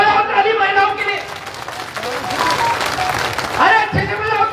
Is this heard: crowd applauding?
yes